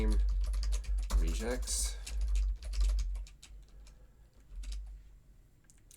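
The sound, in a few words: typing on a computer keyboard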